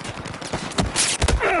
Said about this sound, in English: that's a sniper in the distance